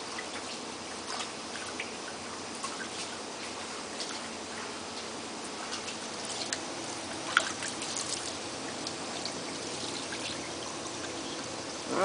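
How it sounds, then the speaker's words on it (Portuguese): Water pours and trickles steadily onto garden plants, a continuous soft splashing stream with a few brief knocks, heard alone without talk. "Molhando as plantinhas."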